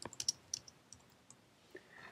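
Computer mouse clicking, several quick faint clicks at the start, then a few sparse light clicks spread out in a quiet room.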